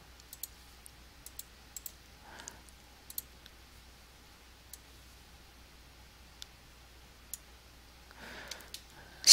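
A computer mouse clicks quietly and sparsely, with scattered single clicks spaced over several seconds against a faint background hum and a couple of soft rustles.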